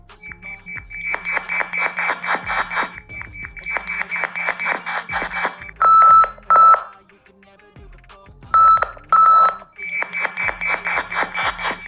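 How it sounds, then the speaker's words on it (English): Nothing Phone (1) ringtone from the Glyph interface sound pack: loud, repeated bright electronic chirping patterns in rhythmic bursts, broken by a pair of clean tonal beeps, then the chirping pattern returns. "these are some of the ringtones along with the new Glyph interface"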